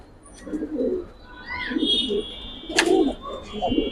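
Soft cooing of a Giribaz pigeon, a large hen at a loft in Old Dhaka, with low repeated coos and a few brief chirps, close and moderately loud over background noise.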